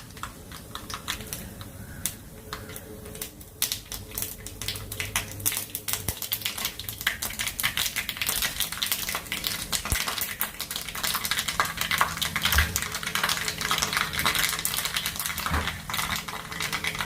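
Mustard seeds splutter in hot oil for an old-style curry, a dense, continuous crackle of tiny sharp pops and spits, close and steady, growing slightly busier over time.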